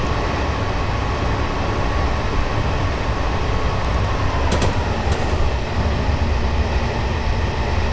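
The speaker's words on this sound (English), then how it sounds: "Train stopping." A simulated train pulls into a suburban London station near Harrow on the Hill in Train Simulator 2018, giving a steady, loud rumble with a faint clack around the middle and no talk.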